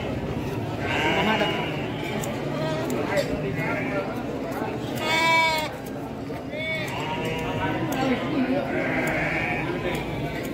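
Garut sheep bleat repeatedly at a livestock market, with several overlapping calls rising over a steady background of crowd chatter and people talking.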